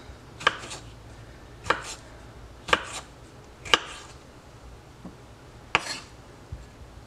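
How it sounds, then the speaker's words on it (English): A knife chops Roma tomatoes on a cutting board for bruschetta, five sharp, evenly spaced strikes about a second apart, close and clear over a quiet kitchen background. "now I'm going to chop the onions to start making, I mean not the onions, the tomatoes"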